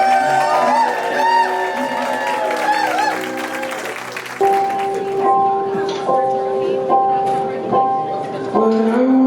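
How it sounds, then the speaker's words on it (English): Wedding guests applaud in a brief burst of crowd clapping and cheers that blends with a voice and music during the first few seconds, then fades, leaving the music playing alone. "a great big round of applause"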